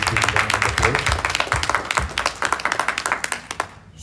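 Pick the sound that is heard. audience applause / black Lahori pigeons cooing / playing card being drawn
audience applause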